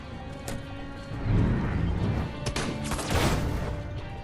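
Gunfire in the video game Destroy All Humans 2, a dense burst of shots and crashing impacts with two louder volleys mixed into a busy game soundscape.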